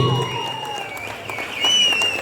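An audience claps for a gold medalist at a sports meet prize distribution held by a trust, a brief burst of applause mixed with an amplified voice and a steady tonal hum.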